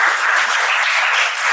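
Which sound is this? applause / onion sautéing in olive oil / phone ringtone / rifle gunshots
applause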